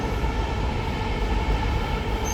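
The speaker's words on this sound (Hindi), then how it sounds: "और भाई मेट्रो पूरी खाली पड़ी है देखो।" Inside a moving metro train, a steady loud rumble of wheels and carriage noise fills the space, with no speech over it.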